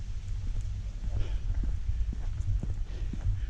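Horses walking with hooves clip-clopping near a graveyard path in Chichester, a loose, uneven patter of hoof knocks over a low steady rumble outdoors.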